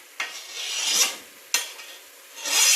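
Bell peppers slide into a hot pan where bacon is cooking for a cowboy chilli, with two sharp scraping clatters and swelling hiss and sizzle between them, close and with no talking.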